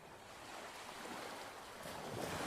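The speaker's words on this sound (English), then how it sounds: "She followed that corridor until she could hear the sound of running water." Running water echoing inside a cave, a steady broadband wash like rushing flow, continuous and moderately loud with no voices.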